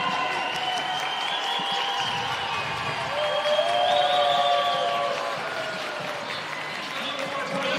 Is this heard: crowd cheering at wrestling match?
yes